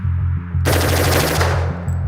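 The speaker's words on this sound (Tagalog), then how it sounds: "Automatic weaponry, which is not legal for most civilians to own and is very highly regulated, means you get a whole bunch of bullets for one pull of the trigger" A loud burst of automatic gunfire, rapid continuous shots at close range with a steady mechanical rhythm for about a second before trailing off, with lower rhythmic tones underneath.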